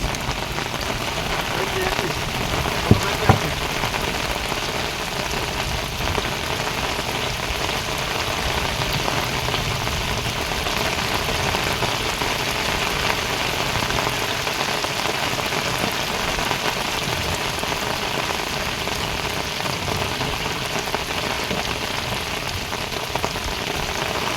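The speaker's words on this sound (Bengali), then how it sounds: "যেমন বর্ষা হচ্ছে তেমন বিদ্যুৎ চমকাচ্ছে" Heavy rain pours steadily at a river during a storm with lightning, a dense, even hiss of drops on surfaces throughout, with a couple of faint knocks and muffled voices beneath.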